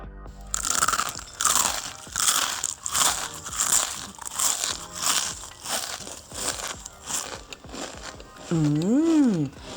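Crispy fried mushrooms made without eggs are bitten and crunched close up in a rapid run of loud crackling bites through most of the stretch, ending in a brief burst of music.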